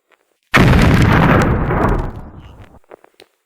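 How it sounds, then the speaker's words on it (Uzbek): A bomb explodes in a village with a sudden loud, heavy blast that rumbles on for about two seconds and then fades, followed by a few faint scattered pops. "Menimcha bomba portlab bo'ldi"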